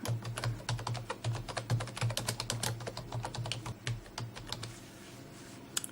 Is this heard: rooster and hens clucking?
no